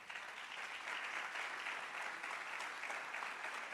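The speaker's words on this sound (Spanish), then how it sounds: "Dele un aplauso al Señor." Congregation applauding the Lord during a Sunday church sermon, a faint but steady, continuous clapping from many people heard from a distance, with no talk over it.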